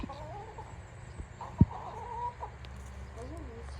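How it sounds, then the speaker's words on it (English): A rooster among farm animals clucks and calls at close to middle distance. Short wavering cries and clucks come over a low outdoor background with faint voices in between. "Yeah, there's only one rooster here."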